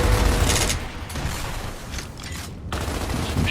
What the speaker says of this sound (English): Some shots into those guys there, a few downs.